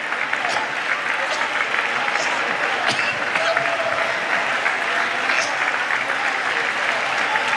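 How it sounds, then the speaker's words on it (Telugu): A church congregation claps hands together in a loud, dense, continuous applause-like roar, with voices faintly mixed in underneath. "స్వరమెత్తి చప్పట్లు కొడుతూ"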